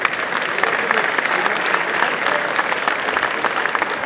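Audience applause for the sports journalists at an evening sports awards ceremony, a steady dense clapping lasting about four seconds, with faint murmurs mixed in.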